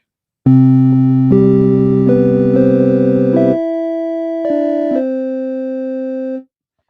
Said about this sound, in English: that is the sound of 3 carrier waves, 1 sine wave, 1 triangle wave being combined together to give me a sound.